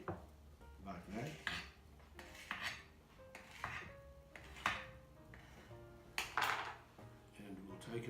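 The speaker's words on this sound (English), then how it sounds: "we're going to actually cut it into little slices here" A knife clicks and scrapes against a dish while cutting trifle sponge into small slices, several close, separate taps and clinks spread over a few seconds, with faint background sound and no clear talk.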